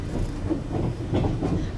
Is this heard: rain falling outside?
no